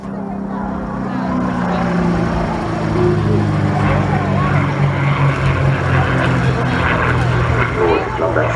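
A carrier-based propeller airplane with folding wings and toughened undercarriage performs at a seaside air show, its engine droning loud and steady throughout with crowd and commentary voices underneath.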